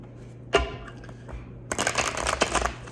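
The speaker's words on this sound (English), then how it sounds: "That's just bad shuffling on my part." A deck of tarot cards riffled and shuffled up close, a short burst of flicking followed by a longer rapid flutter of cards slapping together.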